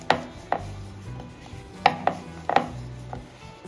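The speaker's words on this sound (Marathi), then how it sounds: "आता इथे थोडासा मैदा डस्ट करायचा पोळपाटावर आणि एक मोठी पोळी लाटून घ्यायची।" A rolling pin works a large flatbread of dough on a flour-dusted wooden polpat board, giving scattered close wooden knocks and clacks with soft rolling rubs between them, without any talk.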